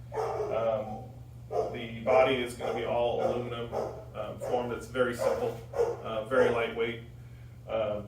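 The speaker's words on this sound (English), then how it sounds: "Apologize for the dog barking." A neighbor's dog barks in short bursts in the background, fairly faint and partly masked by someone speaking steadily close to the microphone, with a low steady hum underneath.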